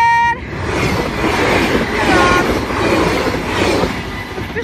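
A train passes close by in Sint Joost, a loud, broad rumble of wheels on rails that swells and holds for several seconds, with faint squeals riding on top.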